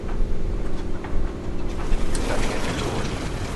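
Radial piston engine of a Boeing 377 Stratocruiser starting in the A2A flight simulator, a loud continuous rumbling drone with uneven sputtering pulses as it catches and settles toward idle, no talk.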